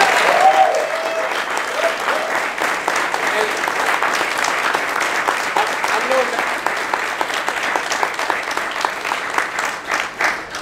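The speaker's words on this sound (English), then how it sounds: "How about a round of applause?" A crowd gives an evenly sustained round of applause at a ghost pepper challenge fundraiser, a steady clatter of many hands at moderate loudness that carries on for several seconds, with voices faintly underneath.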